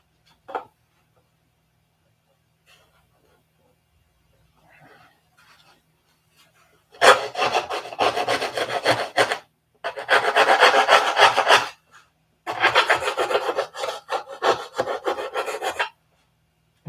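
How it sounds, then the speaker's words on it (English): A wing rib on a P-47 model plane being sanded by hand in three separate bursts of quick, close rasping strokes, each a couple of seconds long and split by short pauses, with no voices. "A little bit of sanding right here on this one."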